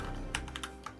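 Quiet, close clicks of a computer keyboard as code is typed, several light keystrokes in an uneven rhythm across a second over a low background hum.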